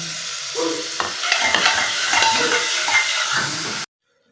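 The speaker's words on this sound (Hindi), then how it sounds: "अब इसमें डालनी है प्याज, और प्याज को भूनना है" Sliced onions frying and sizzling in hot oil with cumin and kalonji seeds for an okra curry, a steady crackling hiss with occasional stirring, close and loud throughout before cutting off abruptly near the end.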